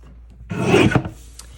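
A paper trimmer blade slides through card stock in one short, close, rasping stroke of about half a second, then goes quiet.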